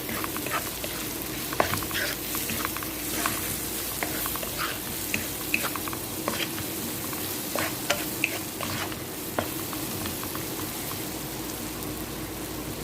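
Black pepper, turmeric, curry and coriander powders are stirred into a tilapia soup in a pot, with quiet, repeated spoon scrapes and clinks over a soft, constant simmering hiss.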